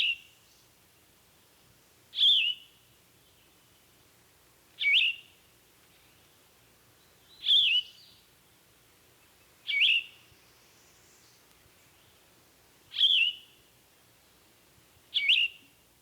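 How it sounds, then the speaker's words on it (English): A yellow-throated vireo sings six short, burry phrases, each sharp and clear against a quiet background, spaced evenly about two and a half seconds apart. "And finally, the yellow-throated vireo."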